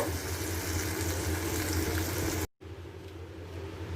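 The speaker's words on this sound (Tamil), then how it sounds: "4 மான்படி தண்ணி ஊற்ற போகிறேன்." Water pours steadily into a cooking pot of rice and lentils with a full rushing sound, stopping abruptly midway, then a softer bubbling continues.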